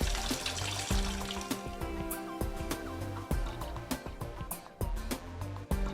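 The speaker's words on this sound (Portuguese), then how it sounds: "Os tecidos mineralizados e já bem fixados devem ser lavados em água corrente antes de iniciar a descalcificação." Running tap water pours steadily over mineralized, fixed tissue that is being rinsed in a histology lab. The flow is continuous and fairly quiet, with small clinks and knocks now and then.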